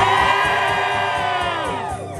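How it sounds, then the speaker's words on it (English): A live concert crowd at a show in Marseilles, Illinois, screams and cheers loudly, a dense sustained roar of many voices that slowly tails off. "It's appropriate to scream super fucking loud when that part comes up."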